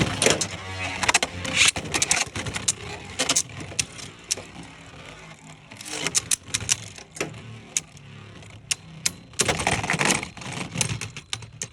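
Beyblades launched hard and spinning in a stadium, their metal tops clashing in a series of sharp, rattling clicks and bursts that come and go, loud and close, with no talk.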